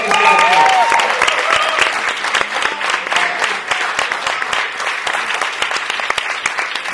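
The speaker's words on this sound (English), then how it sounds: "let's keep applauding" A convention audience at a South of Nowhere fan event applauds and cheers, a loud sustained wave of clapping with scattered whoops that stays full throughout.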